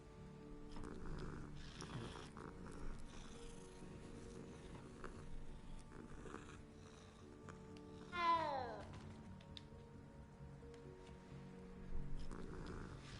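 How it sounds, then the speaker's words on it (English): A cat meows once while being petted in Hogwarts Legacy, a short falling call over quiet game music and ambience, with a few faint voice-like sounds around it. "Who's your good kitty?"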